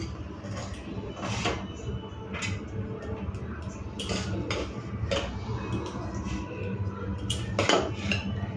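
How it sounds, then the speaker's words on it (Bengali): Hot, steaming rice served onto a plate, with repeated metallic clinks and scrapes of a spoon against dishes, close and irregular. "চলো ভাতটা বেড়ে নিই"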